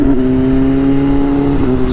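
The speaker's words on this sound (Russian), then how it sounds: "Снова эта крутая тачка." A sports car on an Estonian road rumbles past at close range, a steady loud engine drone with a slight pitch dip near the end, heard over the wind and engine of a moving motorcycle.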